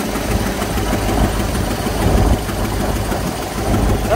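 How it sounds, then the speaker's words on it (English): A 2008 GMC chipper truck engine idles steadily up close, a constant low rumble and mechanical hum with a possible light exhaust leak, unbroken and with no voices. "There's your engine."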